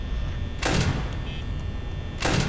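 A door in the Five Nights at Freddy's game slams shut twice, two short broadband bursts about a second and a half apart over a steady humming office ambience.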